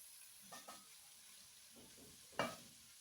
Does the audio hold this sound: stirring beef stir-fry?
yes